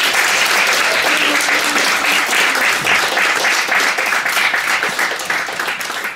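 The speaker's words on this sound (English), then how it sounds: "Can we get another round of applause" A literary audience at a young writers' conference applauds after two authors' readings, the clapping dense, loud and sustained across the whole stretch with a slight fade near the end.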